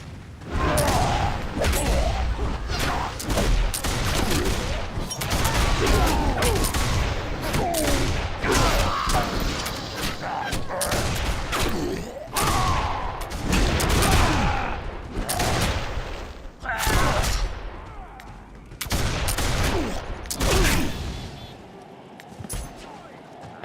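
Dense gunfire in the Warhammer: Age of Reckoning video game, continuous bursts of shots and thuds throughout a long stretch, loud and close, with a voice talking over the battle at times.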